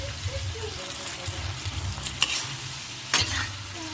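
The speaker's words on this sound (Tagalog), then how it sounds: "halu-haluin lamang natin hanggang lumambot pa ang kamatis dahil ang ating kamaro ay crunchy na siya" Mole crickets (kamaro) and tomatoes stirred in a frying pan, soft scraping and low sizzling close by, with a couple of sharper utensil clinks near the end.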